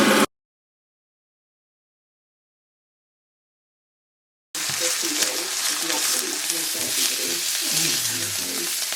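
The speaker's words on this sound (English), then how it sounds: "I've got the chicken on there and it's like sizzling quite a bit" After a short burst and a long silence, a steady broadband sizzle of chicken frying in a pan on the hob fills the rest, with faint voices underneath.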